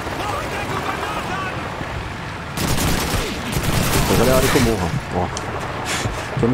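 Gunfire in the video game Call of Duty 2, bursts of rapid shots growing louder and denser partway through, with someone talking over the firing.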